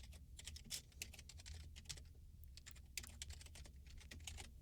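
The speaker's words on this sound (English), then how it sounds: "When I typed the sub Goodbye World statement" Quiet computer keyboard typing as code is entered, a soft close patter of keystrokes in uneven bursts over a low background hum, with nobody speaking.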